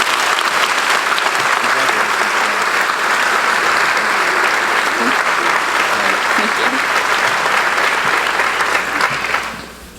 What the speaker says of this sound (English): Please a round of applause for Alex.